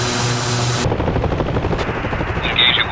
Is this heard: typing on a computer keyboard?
no